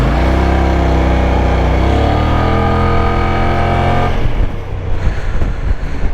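Kymco AK550 Premium maxi scooter riding through morning city traffic, its engine humming steadily up close before the tone drops and breaks into rougher, uneven rumble as it slows.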